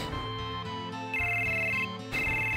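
Ringtone from an in-game phone in Final Fantasy 7, a melodic electronic tune repeating in short phrases over a steady musical background, loud and close with no talking.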